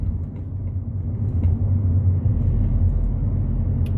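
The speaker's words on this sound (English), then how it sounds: "I've got this traffic going on" Road traffic rumbles steadily and loudly, a low continuous drone of passing vehicles with no clear breaks, heard close by.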